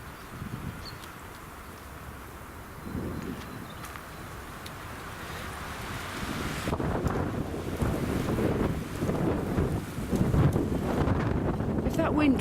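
Steady wind gusting across open ground in the New Forest, a continuous rushing roar that swells louder midway and stays strong, buffeting the microphone with low rumbles.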